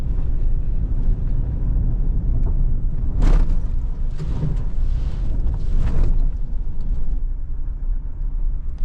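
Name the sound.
2024 Mitsubishi Triton driving over a bump on gravel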